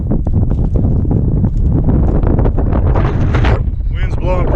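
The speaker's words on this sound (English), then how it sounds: "Wind's blowing pretty good" Strong wind blowing outdoors at Bayhorse, buffeting the microphone as a loud, continuous rushing roar throughout, with a voice speaking briefly near the end.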